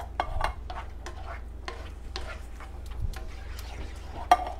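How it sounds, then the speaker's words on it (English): A spoon stirs a ranch chicken casserole mixture in a dish, with repeated soft scraping and clinks at an uneven pace over a low hum, close by and with no talking. "I'm just stirring it up."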